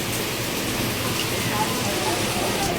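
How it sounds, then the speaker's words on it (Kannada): Steady rain falling outdoors, a dense even wash of patter without breaks, fairly loud and close. "ಈಗ ಮಳೆ ಬರ್ತಿತ್ತಲ್ಲ"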